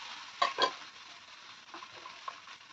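Jakhya seeds with turmeric and red chili powder in a Pahadi dal tempering, giving a faint, steady frying hiss with two brief louder bursts of sizzle and stirring near the start, no voices.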